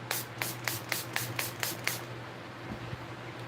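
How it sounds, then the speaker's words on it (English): Seven quick, soft hisses of setting spray misted onto a face, evenly spaced in a short burst, faint and close against a low steady hum. "I'm just going to spray it down just a little bit"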